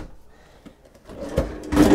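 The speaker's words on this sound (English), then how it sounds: "on the bottom, you have two drawers with a slide-out tray." A drawer sliding open on a residential refrigerator in a 2024 Thor Motorcoach Riviera 34SD RV, heard as a short run of soft sliding and rumbling that swells near the end, close by, with no talk.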